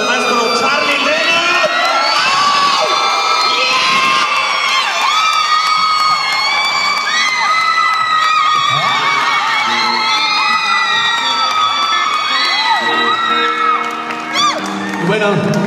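Festival crowd at a tribute concert cheers, whoops and shouts steadily, loud and close throughout, with excited voices layered in a continuous roar.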